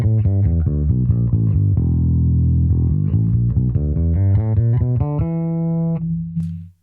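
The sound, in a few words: clean bass tone, Neural DSP Quad Cortex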